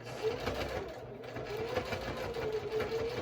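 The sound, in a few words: domestic sewing machine top stitching a wallet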